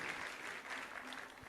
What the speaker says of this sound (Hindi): एक बार जोरदार तालियों से उनका भी स्वागत कर दें आज अपने बीच में